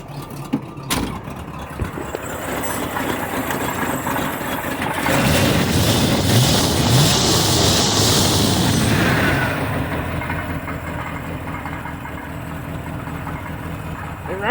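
Worn-out V8 Fox Body Mustang with an exhaust leak at the donut gasket starting and idling, a rough low rumble that swells in the middle and then settles into a steady loud idle.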